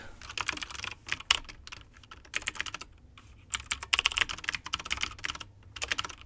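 Rapid bursts of computer keyboard typing, close and crisp, clattering in uneven runs with short pauses between words.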